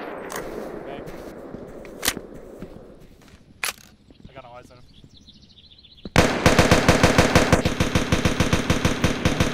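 Gunfire from soldiers laying down rounds on a position: scattered single shots at first, then a loud, sustained rapid-fire stream with a steady rhythm. Voices can be heard during the quieter early part.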